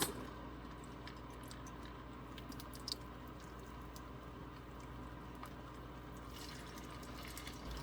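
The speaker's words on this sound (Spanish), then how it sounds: "Ya está bien caliente el aceite. Vamos a empezar a agregar nuestras papas." Potatoes fry in hot oil in a home kitchen, a steady soft bubbling sizzle with faint crackles, close and fairly quiet, with no voices.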